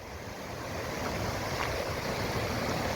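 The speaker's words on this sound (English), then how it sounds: "There's a river running down here." A river running over stepping stones on the Aber Falls walk, a steady broadband rush of flowing water, fairly close and constant, with some wind noise on the microphone.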